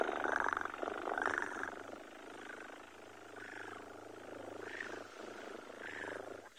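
A person imitates a lion's loud purring with a voice: a low, rumbling, rhythmic purr rising and falling in several breathy pulses, close and fairly steady throughout.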